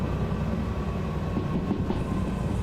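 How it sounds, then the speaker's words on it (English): A locomotive in the VR train game Derail Valley rumbles steadily with a dense, grinding mechanical drone of wheel slip and faint rail clatter, close and continuous, no talking. "we're getting a little bit of wheel slip. You can hear it."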